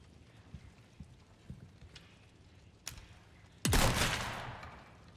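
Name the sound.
gunshot in the video game Resident Evil 4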